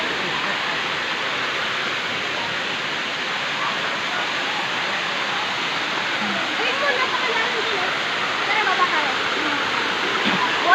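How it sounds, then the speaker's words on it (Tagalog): Waterfall at Tanay, Rizal, a steady, loud, broadband roar of falling water filling the whole scene, with faint voices nearby. "Ayan po ang kanilang falls."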